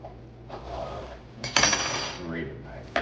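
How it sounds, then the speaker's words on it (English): A knife cuts raw chicken breast into cubes on a board, giving soft taps and one sharper knock midway, then a last clack at the end, close and fairly quiet. "Now what I do is I go ahead and cube these in advance, or cut them up in advance"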